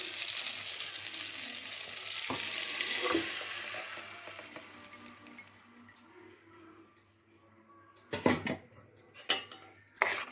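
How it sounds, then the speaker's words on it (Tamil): Ground spice paste hits a hot pan in a loud, hissing sizzle that fades over several seconds, followed by a few sharp clinks of utensils against the pan. "இப்போ இந்த அரைச்சதை எடுத்து நான் ஊற்றிடுறேன்"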